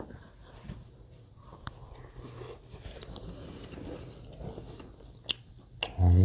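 Bread is bitten and chewed close up, with soft crumbly chews, small clicks and a louder bite near the end, all quiet and intimate with no talking.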